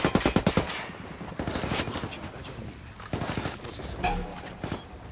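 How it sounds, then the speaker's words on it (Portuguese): Rapid bursts of automatic gunfire ring out in a Ghost Recon Wildlands PvP match, a fast stuttering string at the start followed by scattered shots and further bursts, with players talking over the action. "o maluco tá me dando muito tiro, cara"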